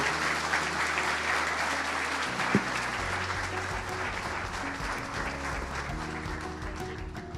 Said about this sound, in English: Can we please round of applause for Coach Malzahn?